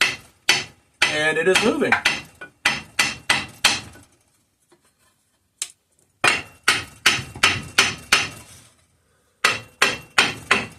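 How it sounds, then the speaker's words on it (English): Light hammer taps strike a cast aluminum part of a Kohler K301 engine, at the thick section around the crankshaft, in crisp repeated bursts with a pause midway; someone speaks briefly between the knocks. "I'm tapping on what is easily the thickest part of this cast aluminum piece."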